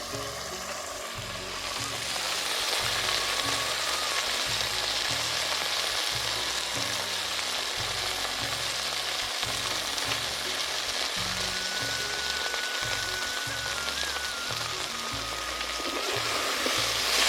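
Potatoes with salt and turmeric frying in a pan, a loud continuous sizzle with occasional stirring, steady throughout after a quieter first second or two, no voices.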